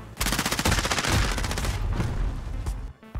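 Rapid automatic gunfire in Call of Duty: Warzone, a dense, loud burst of machine-gun shots running almost continuously for about three seconds before a brief cut and a final report.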